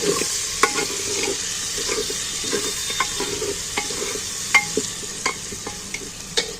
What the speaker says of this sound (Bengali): এবার আমি পেঁয়াজটাকে একটু ভেজে নেব।